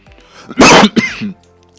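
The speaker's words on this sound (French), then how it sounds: "Désolé, je tousse." A single harsh cough followed by a shorter second burst, close and loud, with quiet room noise around it.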